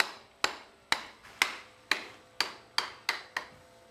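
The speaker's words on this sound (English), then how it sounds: "Now in order to hammer it down" Eight sharp metallic taps from a hammer striking a small lead sash window weight, evenly spaced about half a second apart, close and fairly quiet, with no talking.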